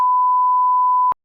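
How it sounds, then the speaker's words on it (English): A single steady censor beep tone runs for about a second and stops abruptly, loud and alone with no voices. "We'll beep the name."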